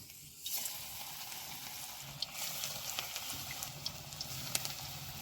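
Balls of chopped thankuni leaf frying in oil, a steady soft sizzle with scattered sharp pops and crackles throughout, close and moderately quiet.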